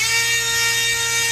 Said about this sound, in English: So, single stage firing, or